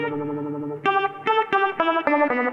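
Electric guitar chords ring through a reverb plugin in Guitar Rig 6 Player, one sustained chord followed by several sharp, rhythmic strums that linger with a washy tail.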